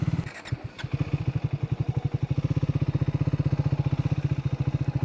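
A motorcycle idles and pulls away at the Gir forest entry gate on a bike safari near Sasan Gir, its engine thumping in a steady, rapid rhythm close to the microphone.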